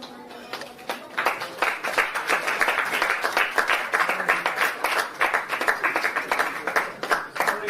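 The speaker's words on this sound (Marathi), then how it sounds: "टाळ्या वाजून आपण मान्यवरांचं स्वागत करूया" An audience at a Marathi novel launch ceremony claps to welcome dignitaries, sharp individual hand claps building into uneven, moderately loud applause that continues for several seconds.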